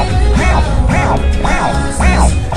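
Chirp scratches cut on a DJ turntable, each a quick rising-and-falling squeal repeated roughly every half second, loud and upfront, with no talk over them.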